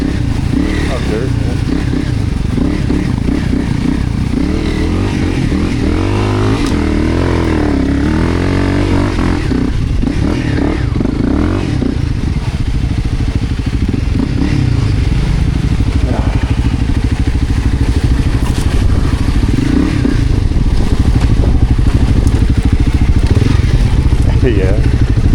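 A dual-sport dirt bike rides continuously over dirt and icy ground, its engine droning loud and steady up close for the whole stretch with slight throttle changes, and a rider's voice occasionally audible over it.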